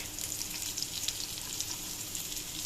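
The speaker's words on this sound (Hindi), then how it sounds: "सबसे पहले हम प्याज डालेंगे और प्याज को हम ज्यादा सोते करेंगे" Onions sautéing in a pan for vegetable chow mein give a steady, even hiss of frying oil with faint stirring, continuous and close, with no talk.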